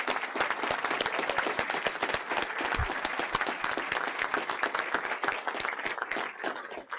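An audience applauds student leaders at an evening honors event, dense steady clapping from many hands filling the room for the whole stretch, with no voices over it.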